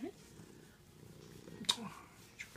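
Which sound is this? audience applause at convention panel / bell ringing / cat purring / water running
cat purring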